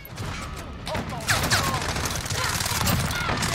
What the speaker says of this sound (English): this fire shotgun's on my nerves